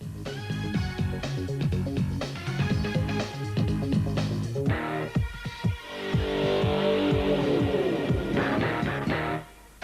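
Off-road race cars revving loudly together at the start of a 1997 Super Series heat, engines rising and falling in overlapping pitch sweeps, sustained and close, then cutting off near the end.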